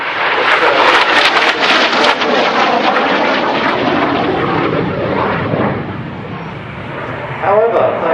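An F-86 Sabre swept-wing jet fighter flying at Old Warden, a loud, steady roaring engine rush that slowly fades and then swells again near the end, with wind buffeting the microphone.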